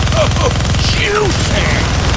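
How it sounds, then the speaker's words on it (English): Minigun firing in the Deadpool video game on Xbox 360, a loud, rapid, unbroken stream of shots with dense rhythmic pulses, while voices talk over it. "Gonna need both hands to shoot that minigun."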